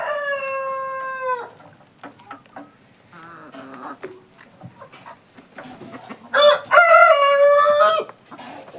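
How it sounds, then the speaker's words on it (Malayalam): A six-month-old Giriraja rooster crows loudly up close, followed by scattered soft clucks and rustling, then a second strong crow near the end. "ഇത് നമ്മളൊരു ഗിരിരാജൻ കോഴിയാട്ടോ"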